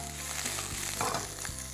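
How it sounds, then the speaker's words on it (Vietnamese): Vegetables and minced garlic stir-fry in oil in a pan while cooking instant noodles with beef, giving a continuous close sizzle broken by the scrape and clatter of stirring, with no voices. "chúng ta xào cái phần rau củ này"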